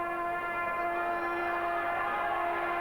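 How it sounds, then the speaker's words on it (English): A long sustained siren wails steadily across the ground to start the last quarter of a 1984 Australian rules football match between Glenelg and Sturt at the Bay, a clear unbroken tone with no talk. "Siren sounds to start the last quarter here at the Bay."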